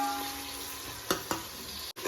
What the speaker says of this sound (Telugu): కొద్దిగా అంతా గోల్డెన్ కలర్ వచ్చేంత వరకు వేయించుకుంటాము.